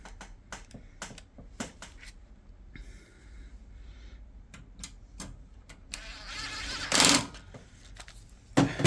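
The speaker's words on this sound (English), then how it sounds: "I'm gonna get one of my screws here, screw that in." A screw driven in to fix a graphics card into a desktop PC case, with several short metallic ticks, then brief whirring bursts and a louder grinding spell near the end, close and fairly quiet.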